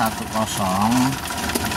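A Suzuki Carry engine idling roughly, with a coarse knocking rattle under someone speaking close by.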